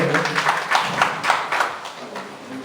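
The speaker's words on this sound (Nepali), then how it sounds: "अलि ताली बजाइदिनुहोला, थोरै भए पनि हामीले।" Audience clapping at a cooperative annual general meeting in Nepal, a short burst of scattered, moderately loud applause in a hall that thins out toward the end.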